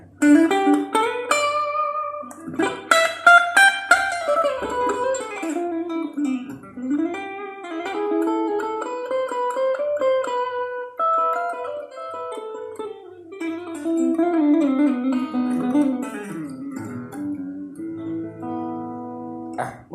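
A clean electric guitar plays a flowing melodic line with bends and sustained notes, mid-loud and close, ending on a few lighter picked notes.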